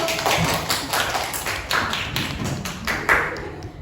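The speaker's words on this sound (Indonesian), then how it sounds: "Tepuk tangannya dulu." A classroom of students claps for a classmate, a close, loud run of uneven hand claps and thuds lasting a few seconds.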